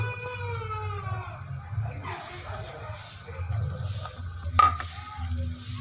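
Onions fry in a cup of hot oil, giving a moderate sizzle with stirring scrapes and a sharp clink of the spoon against the pan near the end.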